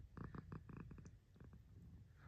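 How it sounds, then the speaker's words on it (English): Pepper the cat purrs close up, a soft rumbling purr in rhythmic pulses, very quiet and low. "Purrs of approval"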